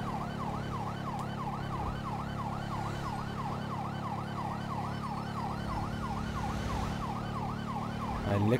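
A police motorcycle siren in Grand Theft Auto 5 wails in a fast, regular up-and-down cycle over a steady low engine drone, loud and continuous throughout, with a brief low thump at the very end.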